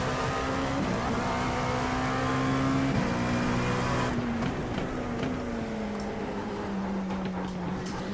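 Dallara P217 prototype race car at Sebring in the iRacing sim, its engine holding a steady loud drone with shifting pitch, rising and falling through gear changes, close and continuous with no talk.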